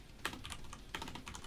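Brisk typing on a computer keyboard, a few close quick clusters of key clicks with short pauses between bursts, no voices.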